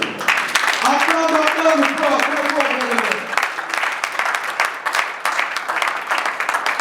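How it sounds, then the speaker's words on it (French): A church congregation applauds, with a broad wash of clapping heard close and continuously while a voice speaks over the first half. "Acclamons pour les rois."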